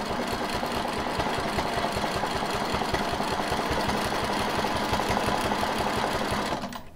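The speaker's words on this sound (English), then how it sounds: "I'm just going to start stitching." A sewing machine runs steadily while free-motion quilting, its needle pounding in a fast, even rhythm for several seconds before it winds down. The sound is close and loud, with no voices.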